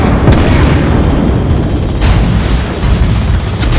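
Naval artillery fire in the warship battle game World of Warships: heavy, loud booming cannon blasts that roll together into a continuous rumble, with sharper salvo peaks throughout.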